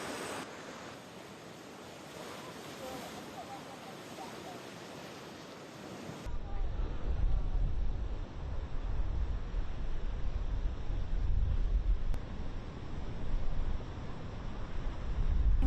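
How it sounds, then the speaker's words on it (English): Rough Atlantic surf pounds the shore during storm Lee, a continuous roaring wash of breaking waves with strong wind buffeting the microphone, growing louder and heavier halfway through, with no one speaking. "I've never seen anything like this ocean right now"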